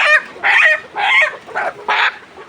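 Layer hens about a hundred days old clucking on a poultry farm, a run of five loud, close bursts of clucking calls with short gaps between them, no voices.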